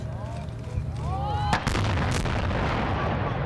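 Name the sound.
film explosion from Stealth behind-the-scenes footage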